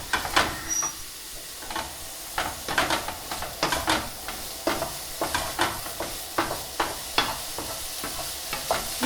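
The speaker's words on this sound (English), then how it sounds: "Keep everything moving again, stir frying, moving around your pan." Pre-cooked vegan chicken alternative stir-fries in a hot pan while a utensil repeatedly scrapes and tosses it, producing rhythmic bursts of crackle over a steady hiss.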